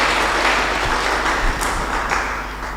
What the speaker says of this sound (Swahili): Tumpigia Bwana makofi because of that.